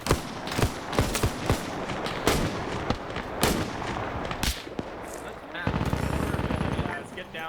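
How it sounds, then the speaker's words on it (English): Bursts of friendly machine-gun fire in a military video game, several sharp rapid volleys at mid distance, with radio-style chatter and game noise continuing underneath. "Friendly MG."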